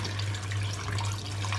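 Boiled water pours into a pot of meat and lentil curry, a steady close splashing rush with a low hum under it.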